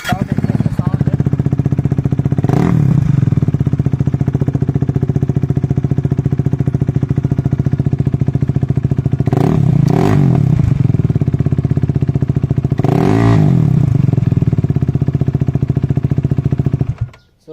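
KTM RC 390 motorcycle engine with the exhaust dB killer removed, running loud and close: a raw, continuous idle rumble with three sharp revs spaced apart, then it cuts off abruptly at the end.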